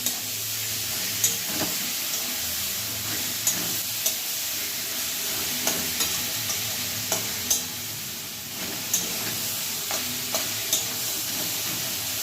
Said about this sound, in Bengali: দিয়ে এবার এটাকে আমি একটু নাড়িয়ে ফ্রাই হতে দেবো।